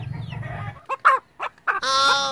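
Hen clucking after laying an egg, a run of short sharp clucks building into a long loud drawn-out squawk, heard close after a low background rumble.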